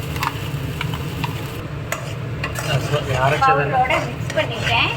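A spoon scrapes and stirs ground paste for paneer butter masala in a frying pan, with soft sizzling underneath and a person talking over it.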